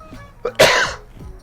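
A single harsh, forceful cough up close, with a short throat sound just before it.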